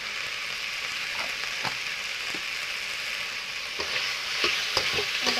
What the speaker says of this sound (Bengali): ভালোভাবে নাড়াচাড়া করে নেব টমাটারটাকে আমি এটাকে ভাজিয়ে নেবো ভালোভাবে